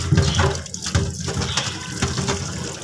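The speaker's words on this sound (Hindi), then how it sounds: "पहले हम अच्छे से प्याज धो लेते हैं।" Onions washed under running tap water, a steady close splash and rush of water with uneven pulses as hands rub the onions, and no talk.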